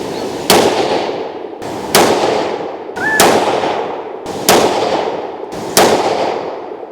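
Five loud rifle shots from a Tikka T3x in 22-250 with a 26-inch 1:8 twist barrel, fired at a steady pace about every 1.3 seconds, each a sharp crack followed by a long rolling decay outdoors.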